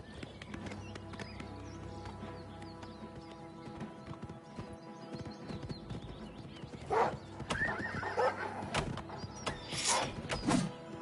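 Hooves clip-clop steadily from a horse in the video game Oblivion Remastered, then a loud whinny rises twice near the end, with a low ambient hum underneath and no talking.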